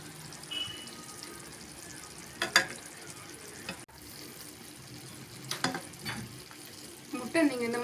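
Egg pieces frying in a masala gravy and being turned over in the pan, giving a low bubbling sizzle with a few scraping clatters of the spatula and some faint background noise.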